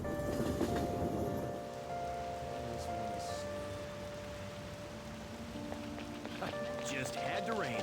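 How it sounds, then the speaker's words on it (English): Steady rain hisses beneath soft tonal music in the video game Persona 5 Royal, with a voice murmuring now and then. "Just had to rain."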